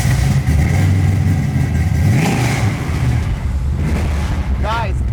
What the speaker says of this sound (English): did you guys just hear that startup video? I mean, that exhaust